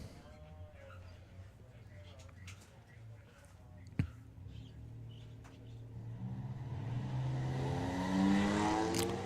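Chevrolet Camaro and Mazda MX-5 racing, engine noise rising toward the end with a sharp knock midway, steady engine drone under crowd and commentary.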